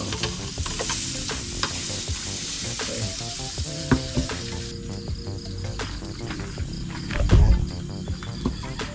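Tuyo, dried fish, frying in a pan: a continuous crackling sizzle with occasional stirring clatter and a louder burst of spattering late on, under quiet background music.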